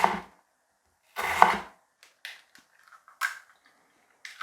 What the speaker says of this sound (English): Run it through the center once to the root, and then chop down.